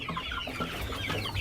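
Chickens on a chicken farm cluck in a soft, irregular stream of short calls, fairly faint with no other sounds.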